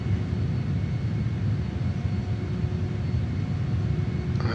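A JAS-39 Gripen jet in Microsoft Flight Simulator roars steadily on landing approach, a loud, even, continuous engine rumble heard from close range with no talking.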